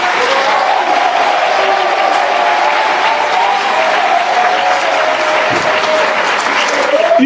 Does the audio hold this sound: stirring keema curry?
no